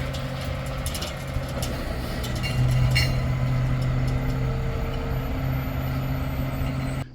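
Roll-off dumpster truck on a Missouri Ozarks farm, its engine rumbling steadily near by with a rise in loudness midway, though distinct reversing beeps are not clearly separated.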